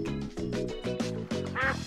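Cartoon ducks quack in a quick series of bright, nasal calls, close and loud, with no talk over them.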